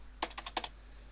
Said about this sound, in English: just type in the how many dollars you want to put in